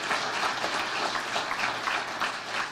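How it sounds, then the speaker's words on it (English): Church congregation at a Sunday gathering applauds its newest members, a steady, even patter of many hands clapping that holds at a moderate level throughout. "A round of applause, please,"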